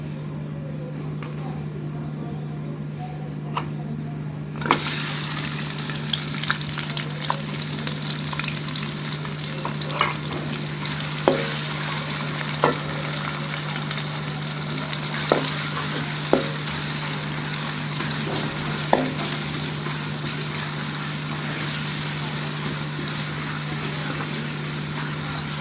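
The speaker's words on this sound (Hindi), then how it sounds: "जब ये हल्का गर्म हो जाएगा तो हम इसमें प्याज डाल देंगे।" Onions going into hot ghee in a kadhai set off a loud steady frying hiss that holds without a break, with a low constant hum underneath and occasional light stirring clicks.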